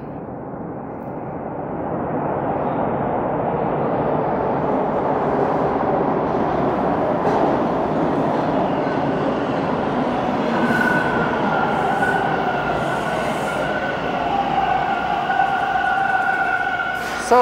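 A Toronto Line 2 subway train rumbles into the station, a rising roar of wheels and motor that swells and holds, with squealing brake tones as it slows near the end.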